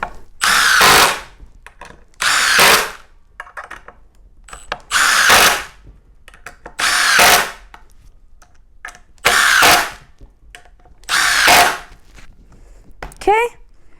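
A Milwaukee Surge Gen 3 impact driver in mode 2 drives 6-inch and 5/8 screws in six loud, separate bursts of a second or so each, with short quiet gaps between them.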